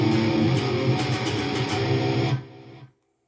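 Distorted electric guitar playing the main riff of a song: dense, thick chugging power chords ringing loud and close for a couple of seconds, then cutting off abruptly into silence.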